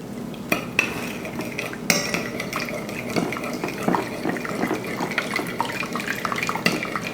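Homemade chicken bone broth poured into a container, a continuous liquid trickle and splash mixed with light clinks of utensils and containers, close by, with no talking.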